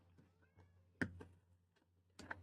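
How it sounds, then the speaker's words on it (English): A hungry cat meows loudly in front of a door, with two distinct calls about a second apart over low background hum, the first the strongest, plus a few faint shorter mews between. "The cat is yelling in front of my door."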